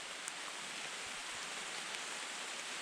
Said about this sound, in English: It is pouring rain and has been all morning.